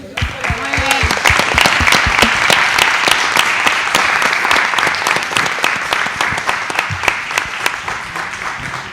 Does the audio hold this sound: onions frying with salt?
no